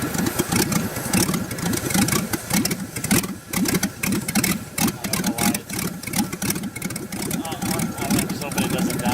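An LS turbo engine in a Miata-based kart idles roughly in second gear at very low RPM, a loud, lumpy, uneven chugging close by with voices talking over it.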